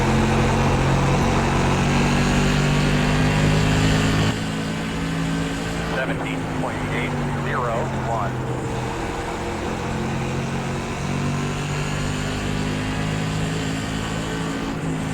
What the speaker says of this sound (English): You don't brake here, you just get out of the throttle and let the banking carry you around.